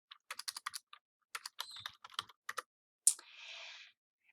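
Typing on a computer keyboard while entering text in Microsoft Word, a quick run of crisp close key clicks in short bursts, ending with one louder keystroke and a brief soft rattle.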